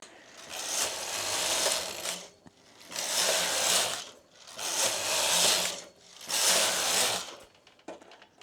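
A home knitting machine works a swatch of twisted, marled yarn, its carriage making four loud, even ratcheting passes of about two seconds each, separated by brief pauses, close up with no talking.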